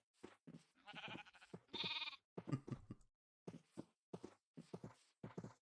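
Sheep in the Minecraft video game bleat repeatedly in short, wavering cries, one after another with brief gaps, clear and close with no speech over them.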